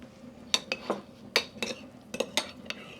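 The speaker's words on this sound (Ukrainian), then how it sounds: "Ретельно перемішую і змащуємо нашу рибку." Utensil stirring a sweet-and-spicy sauce in a bowl for grilled fish on a ceramic grill, with close clinks and scrapes in an uneven rhythm of about a dozen strokes, alone without talk.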